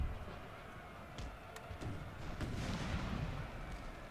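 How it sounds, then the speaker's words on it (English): Cannons fire canister shot toward an opening in a wall during a Napoleon Total War battle at Cadiz, faint distant booms and scattered cracks over a steady low battlefield rumble. "Firing canisters toward the opening here is really killing them"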